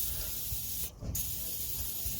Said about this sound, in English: just gonna spray plenty of WD-40